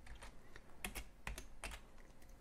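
Typing on a French computer keyboard, quick irregular key clicks in short bursts, faint and close, with no voices.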